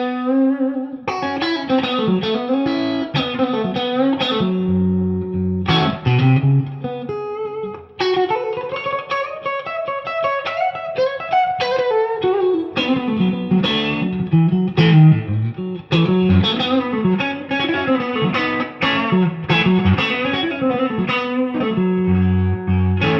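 A Fender Custom Shop '60 Strat HSS electric guitar played through a Blues Power overdrive pedal with reverb, a continuous run of driven notes and chords with ringing sustain and short pauses, loud and alone.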